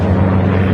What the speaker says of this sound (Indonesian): Helikopter Amerika.